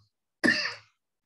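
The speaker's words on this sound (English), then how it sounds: "We still have some cough." A single short, harsh cough or throat clearing, close and fairly loud, lasting under half a second amid silence.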